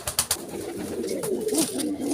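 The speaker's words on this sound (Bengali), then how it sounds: "মা কবুতরটা ভয় পাচ্ছে ভাবছে আমি ওর বাচ্চাগুলো নিয়ে যাবো" A mother pigeon coos near her newly hatched chicks, a low, soft, rolling burble close by, with a few sharp handling knocks at the start.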